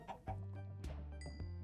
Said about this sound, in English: We officially have 2 chickens in our pen.